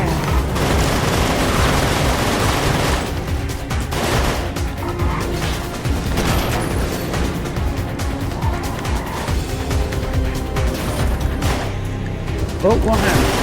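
Vehicle-mounted weapons blaze away in Full Auto 2: Battlelines, a steady loud barrage of rapid gunfire and impacts over engine roar and game music, continuous for the whole stretch.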